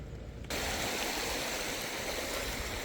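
River water rushes steadily past a riverside night campsite near Kankavli, a dense, continuous flowing wash that starts partway in and then holds at an even loudness.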